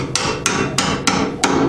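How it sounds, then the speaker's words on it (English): A regular hammer strikes metal five times at a steady, slightly uneven pace, knocking a CV joint axle out of a 1995 Honda Del Sol. The blows are sharp, loud and close, with no talk. "I'm just going to punch it like this with a regular hammer."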